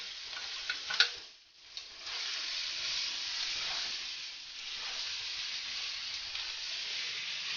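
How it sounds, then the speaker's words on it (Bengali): Chopped onions and green chillies fry in a wok with a steady, bright sizzling hiss, broken by a few clinks from stirring early on. "পেঁয়াজটা আমি লাল করে ভেজে নেব।"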